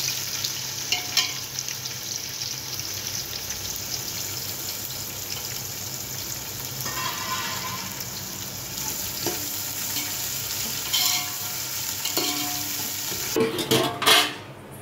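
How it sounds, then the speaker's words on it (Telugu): Chopped onions frying in a pan for uggani, a steady low sizzle with stirring and occasional clinks of a spoon against the metal, growing busier with scraping near the end; no one talks. "కలుపుకున్నాక ఈ ఆనియన్ వేసేస్తున్నాను."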